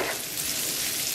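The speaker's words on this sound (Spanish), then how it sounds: "La cebolla la voy a dejar que se cocine nada más como por un minutito y le agrego los hongos." Chopped onion and mushrooms sizzling in a hot frying pan, a steady dense crackle close up with no voices.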